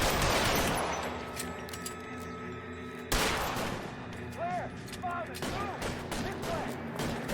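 Dense bursts of gunfire from the LA Noire video game, a fusillade of overlapping shots with a sharp louder volley around the midpoint, heard alongside game music and people talking.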